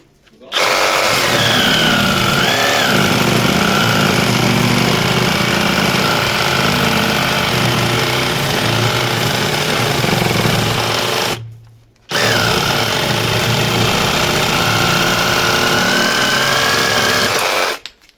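A LEADER Ultra BL20-22M cordless reciprocating saw cuts in two long, loud, continuous bursts separated by a brief pause, a harsh buzzing grind close to the listener.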